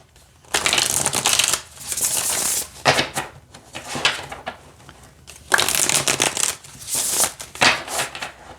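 Several bursts of crisp tarot card shuffling, riffling and rustling close up, separated by short pauses, with no voices.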